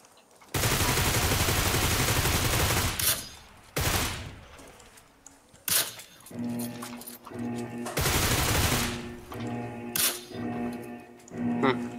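Loud, sustained bursts of automatic gunfire from a weapon in PUBG Lite, broken by short pauses and single sharp shots, with a voice talking over parts of it.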